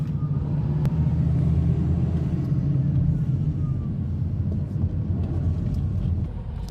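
Heavy, congested traffic on the Cavitex expressway gives a continuous low engine rumble and road drone, with passing vehicles swelling faintly in and out of the steady background.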